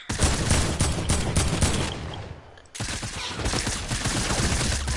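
Rapid bursts of submachine gun fire from an online shooter match, loud and continuous with a brief lull midway before the volley resumes.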